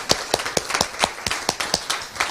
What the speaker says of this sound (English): We are gonna now give a big round of applause to those 2 amazing people